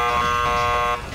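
A loud, steady electronic buzzer drones for about a second in an online UNO game, harmonic-rich and continuous, then cuts off abruptly into quieter background.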